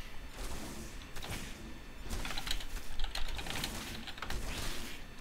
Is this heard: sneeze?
no